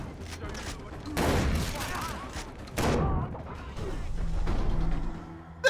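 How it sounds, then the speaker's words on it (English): Shotgun blasts in the video game Far Cry 3: two heavy booming shots about a second and a half apart, each with a rumbling tail, over a continuous bed of game noise. "shotgun burst to the chest"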